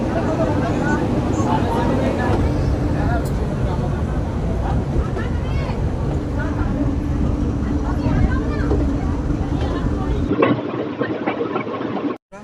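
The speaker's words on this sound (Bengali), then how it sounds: "আমাদের ট্রেন এখন এসে পৌঁছেছে পাকুড়ে" The Kolkata–Haldibari tri-weekly intercity express pulls into Pakur station with a loud continuous rumble and rattle that fades near the end, heard under a person talking.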